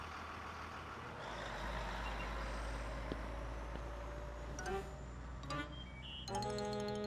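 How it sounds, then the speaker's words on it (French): A school bus in a cartoon idles with a low engine rumble, then brakes with a hiss and a few beeps and chimes near the end, with faint background sound throughout. "L'amie de Caillou, Sarah, monta dans le bus et s'assit."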